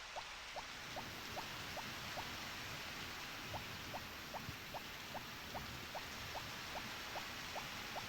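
Steady rain hiss from the video game Harvest Moon: Back to Nature, a constant wash of falling drops running throughout. A faint, regular chiming tick pulses over it, and no one speaks.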